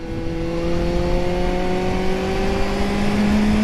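A Kawasaki Z roadster motorcycle revving up in first gear, its engine note climbing steadily and smoothly, loud and close, with a rising whine held for several seconds.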